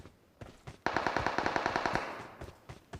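Automatic gunfire in the PUBG Mobile battle game, a rapid burst of about a dozen evenly spaced shots lasting around a second, with a few scattered single shots before and after, heard alone at moderate distance.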